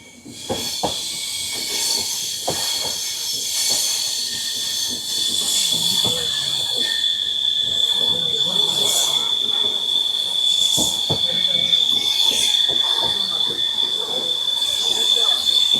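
The Saraighat Express rolls along beside green fields on its run from Guwahati to Howrah, wheels clattering in an irregular rhythm of sharp clicks under a constant hiss and a thin high whine, heard close from on board.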